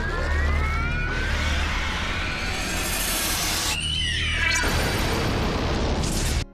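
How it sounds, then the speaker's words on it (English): Funky Boy fires his laser in the anime Redline: a loud sustained roaring blast with rising and falling whistling sweeps, a sudden break, then the blast surging back before it stops. "I particularly love the sound of Funky Boy shooting his laser."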